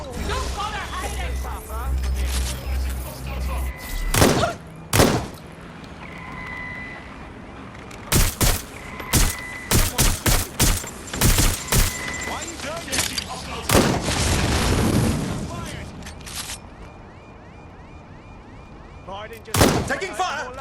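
Gunfire in the open-world game Watch Dogs Legion: sharp, loud shots ring out in scattered bursts and single cracks across a tense scene, with voices talking between them.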